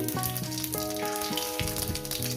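A bay leaf broken in two and whole garam masala spices frying in hot oil for a sardine curry, giving a continuous close sizzle with crackling pops throughout.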